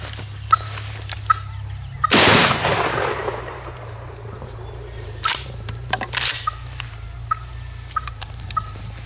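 A single loud shotgun blast during a turkey hunt, close and sharp with a trailing echo, surrounded by quiet woodland ambience, faint clicks and a second, softer report later.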